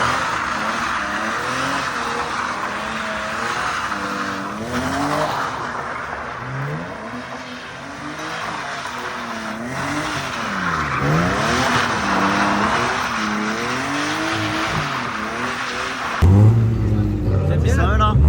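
Supercars accelerating hard on Monaco streets, engines revving loud and close with pitch sweeps as they pull away and tires squealing, while people talk over the continuous roar.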